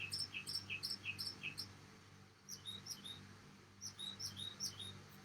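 Outdoors, a bird sings repeated high chirping phrases in quick bursts, with a short pause midway, over a faint steady low hum in the background.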